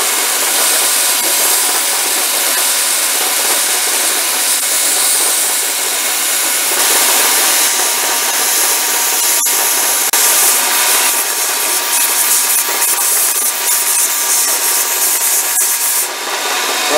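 A Damascus steel knife blade is ground on a belt grinder, giving a loud, continuous harsh hiss and rasp that runs unbroken for the whole span with small shifts in tone.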